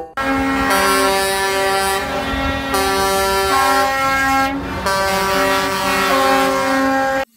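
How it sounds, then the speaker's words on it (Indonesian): A concrete mixer truck sounds a loud, close air horn, holding a multi-tone blast that shifts pitch several times and runs for about seven seconds with only brief breaks. "Ini ada truk molen."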